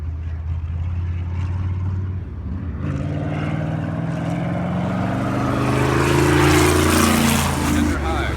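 A rented race car's engine climbs hard on throttle, its loud droning note sweeping upward in pitch as it accelerates, with a voice talking over the roar.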